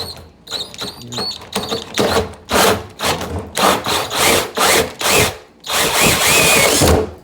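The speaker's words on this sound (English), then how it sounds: "it's very important to keep a firm grip on the drill while you do this" A power drill whirs in repeated bursts as it bores into material, loud and close, with brief pauses between each run of the motor.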